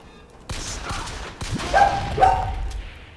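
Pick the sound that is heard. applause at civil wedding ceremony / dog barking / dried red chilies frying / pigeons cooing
dog barking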